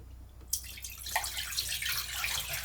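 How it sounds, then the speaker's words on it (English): Water running and trickling from a leaking drain gasket under an RV bathroom sink, a soft steady splashing flow that starts abruptly and continues, fairly quiet and close. "It's leaking right at the drain, though."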